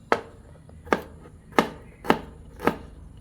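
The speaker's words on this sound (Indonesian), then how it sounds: "lalu bawang merahnya kita potong-potong." A knife chops shallots on a cutting board in five evenly spaced, crisp thuds, close and clear with no talking.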